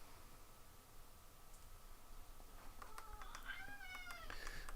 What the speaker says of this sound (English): I don't know if you all heard my cat, right?